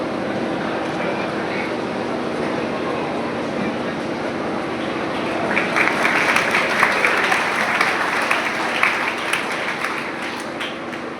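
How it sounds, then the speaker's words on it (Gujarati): Audience applause welcoming the chief guest at a career guidance program in Tankaria, a dense steady clapping throughout that swells louder in the second half, with faint voices underneath. "જોરદાર તાળીઓના ગડગડાટથી આપણે આપણા મહેમાનને વધાવી દઈએ"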